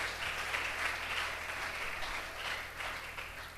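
A church congregation at a Sunday worship service applauds steadily, a dense, even wash of clapping that fills the room without pause.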